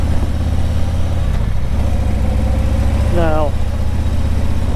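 A small moped engine idles nearby, a steady low putter that runs the whole time under someone talking, with one brief rising whine near the end.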